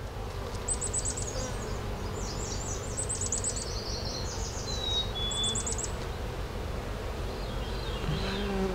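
Honeybees buzzing around a hive frame, a close, continuous low drone of many wings that holds steady throughout, with birds chirping brightly in the background.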